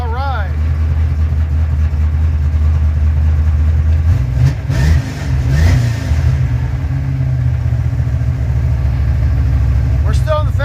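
Car engine held at fast idle on the fast idle cam while still cold, a steady loud drone throughout with a brief dip midway, voices talking over it.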